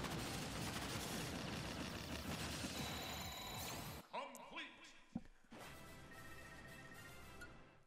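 Cannon blasts and explosive booms in Super Smash Bros. Ultimate classic mode: dense, loud battle noise over music, cutting out to a sharp boom and a few scattered impacts, then sustained game sound with a tone.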